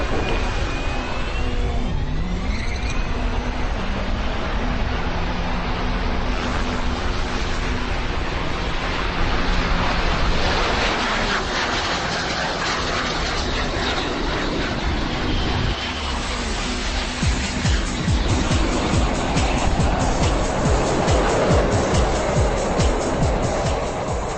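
Audi R10 race car and a Harrier jet racing each other, with a broad, loud roar of engine and jet noise that holds steady and swells over the run, heard at a distance in an open setting.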